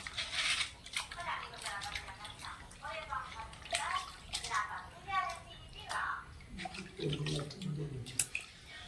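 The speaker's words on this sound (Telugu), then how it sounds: "ఇదిగోండి చక్క చికెన్ శుభ్రంగా కడుక్కుంటున్నానండి" Raw chicken pieces washed with water in a vessel, sloshing and splashing water with soft handling sounds near the mic, a voice talking quietly over much of it.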